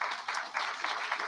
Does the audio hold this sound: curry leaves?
no